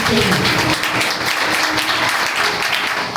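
An audience at a Christian sermon delivered in Hindi-Urdu breaks into sustained applause, a dense, loud patter of clapping that continues throughout without pause.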